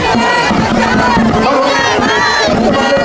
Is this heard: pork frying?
no